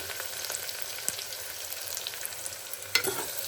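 Onions, green chillies, mustard seeds, cumin and curry leaves fry in hot oil with a steady, close sizzle, broken by a couple of faint utensil taps and no talking.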